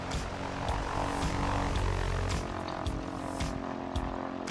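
A Cessna 172 propeller engine drones continuously in the X-Plane 11 flight simulator, a steady, rumbling hum with a buzzing prop tone and a few faint clicks, close and unbroken throughout.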